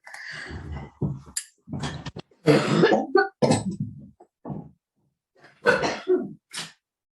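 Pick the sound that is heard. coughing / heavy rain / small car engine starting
coughing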